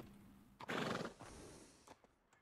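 A horse whinnies loudly for about half a second in Red Dead Redemption 2, a bright rising neigh, followed by a few soft clicks and faint background noise.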